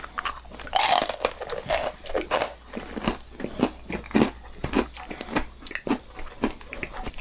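Macarons and meringue cookies are bitten and chewed close up, giving rapid crisp crunches and crackles in an irregular rhythm, loud and alone.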